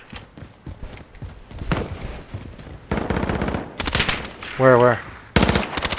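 Rapid automatic gunfire in a first-person shooter video game crackles in sharp bursts alongside footsteps and in-game sounds, while a player briefly speaks.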